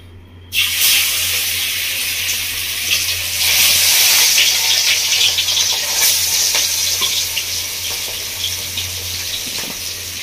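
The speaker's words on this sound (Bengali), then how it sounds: "তেলটা গিয়ে গরম হয়ে গেছে। তো মাছগুলো আমি ভেজে নেব।" Kalbasu fish pieces, rubbed with salt, sizzle loudly in hot oil, a dense steady frying hiss that bursts in abruptly and carries on unbroken under a low hum, with no voices.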